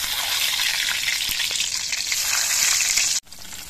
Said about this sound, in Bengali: বাকি ডিমগুলো ভেজে নিচ্ছি।